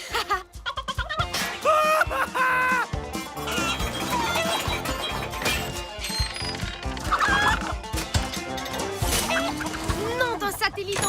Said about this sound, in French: Ce n'est plus une, mais 3 poules qu'on a en cavale.